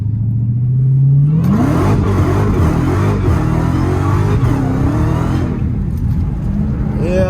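Dodge Challenger Hellcat launches with traction control off, its engine roaring loud and close as revs sweep upward through the take-off, with wheelspin. The engine then eases to a lower drone and a brief voice is heard near the end.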